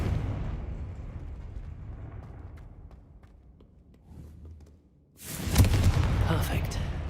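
A Confringo fire spell in Hogwarts Legacy bursts into a loud, broad explosive blast after a low rumbling lull, with crackling debris ringing on for a couple of seconds.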